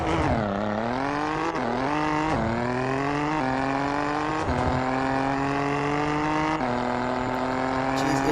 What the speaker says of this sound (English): Jeez, it accelerates so quickly.